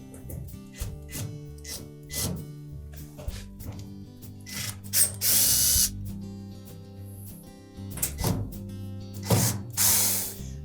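Short bursts of a power driver whir and spin repeatedly at close range while removing mounting screws from the back of a Samsung dryer, interspersed with clicks and light metallic handling sounds.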